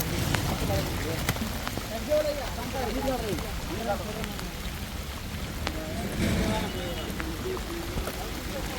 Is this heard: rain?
yes